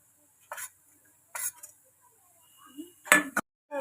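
Spices being stirred into a pan for potato sandwich filling: a few separate scraping clinks of a utensil against the pan, with quiet gaps between them.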